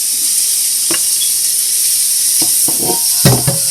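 A loud, constant sizzling hiss fills the sound, broken by a few short scraping strokes as burnt-on rice crust is scrubbed from a cooking pot up close.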